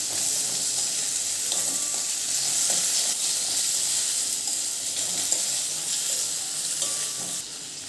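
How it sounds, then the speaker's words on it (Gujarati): Onions and tomatoes sauté in a pan for a veg chili mili gravy, with a steady, close sizzle and faint stirring scrapes running throughout and no talking. "ડુંગળી અને ટામેટાં સોફ્ટ થાય ત્યાં સુધી એને આપણે સાંતળીશું।"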